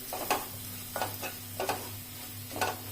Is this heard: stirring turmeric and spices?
yes